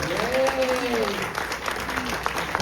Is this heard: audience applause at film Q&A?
yes